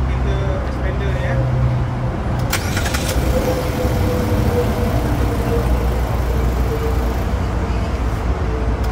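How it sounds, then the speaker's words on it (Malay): A Mitsubishi Xpander's engine cranks and fires up, then settles into a steady idle that runs loud and continuous close by, with a brief clattering burst of sharp noise partway through. "Kita akan start engine kereta expander ni"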